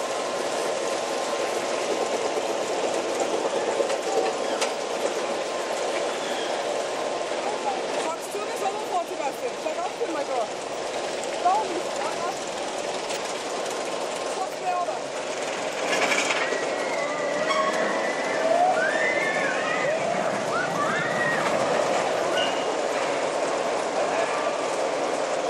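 A mini railway train runs through the Prater amusement park in Vienna, with steady rumbling, clickety-clack and brief wheel squeals as it passes. A voice talks over the train noise throughout.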